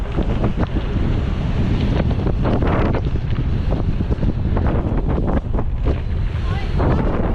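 Strong wind blasts across the microphone in a constant loud roar with low buffeting rumble and brief gust peaks, while voices sound faintly underneath.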